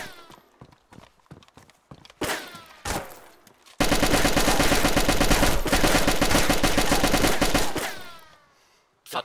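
In a video game, bursts of gunfire ring out: a few scattered sharp shots, then a long, loud continuous barrage of rapid automatic fire that fades away near the end.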